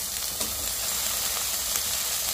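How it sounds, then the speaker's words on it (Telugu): Chopped potato, carrot and beans frying in oil in a pan for vegetable pulao, a dense, steady close sizzle with soft stirring, no voices. "సో ఇవి వేసుకొని కాస్త ఫ్రై చేస్తాను"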